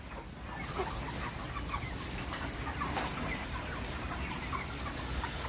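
Caged farm chickens in a poultry house cluck continuously in a dense, busy chorus with a steady mechanical hum beneath, many birds at once, no talk.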